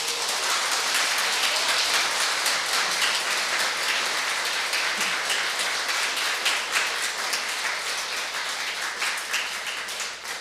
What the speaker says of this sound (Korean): 교무님들 박수 속에 격려의 응원 박수가 아주 힘차게 난 것 같아요